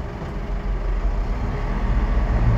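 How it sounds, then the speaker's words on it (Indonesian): A large bus pulls in close by, its heavy engine a steady low rumble that grows slightly louder over a couple of seconds with no talk. "Bus mau masuk."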